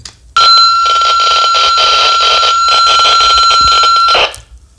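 An Eracom two-way radio receiver sounds a loud, steady electronic alert tone with a fast pulsing buzz, lasting about four seconds before cutting off cleanly.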